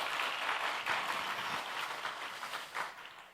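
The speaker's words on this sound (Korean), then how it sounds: "우리 하나님 앞에 감사의 박수를 한번 올려드렸으면 좋겠습니다." A church congregation claps together in thanks during a Sunday afternoon worship service, producing a steady, moderately quiet wash of applause that holds for several seconds without any voices over it.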